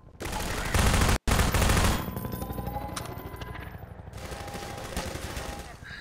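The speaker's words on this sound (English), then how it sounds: "Let's go with the submachine gun" Submachine gun firing in Half-Life 2, loud sustained bursts of gunfire with a brief gap, then quieter continued shots and game ambience.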